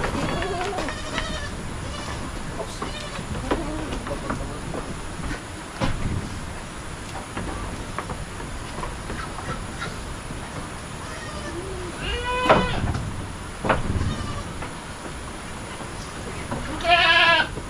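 Several Anglo goats bleat at intervals, some near and loud, others fainter, over steady farmyard background noise.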